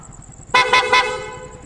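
A loud aftermarket horn fitted to a Yamaha Fazzio scooter blasts three quick, bright honks in a row, close by, with a brief ringing tail.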